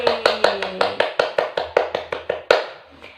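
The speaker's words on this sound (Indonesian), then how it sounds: "Tepuk tangan untuk Nanda" Children in a classroom clap together in a steady, even rhythm, about fifteen sharp claps over three seconds, loud and close, with a few short voices at the start.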